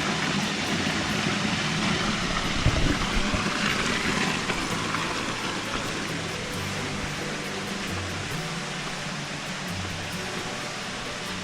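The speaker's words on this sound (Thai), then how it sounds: "ตรงนี้เป็น น้ำตกแล้วครับ" Water pours steadily down an artificial waterfall at a hillside cave temple in Khon Kaen. It makes a broad, continuous rushing hiss that stays fairly loud and unchanging throughout, with no voices.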